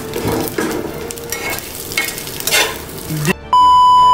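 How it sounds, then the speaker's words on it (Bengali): Eggs frying in a pan heated with sunlight, giving a steady close sizzle and crackle throughout, then cut off abruptly near the end by a brief electronic tone. "ডিম ভাজলে যা হয় আর কি, দেখেন"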